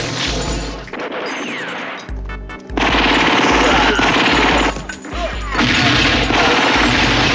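Gunfire and explosions fill an action scene from John Woo's 1992 film Hard Boiled: loud bursts of rapid shots and crashing blasts, broken by brief pauses before the barrage resumes, dense and close.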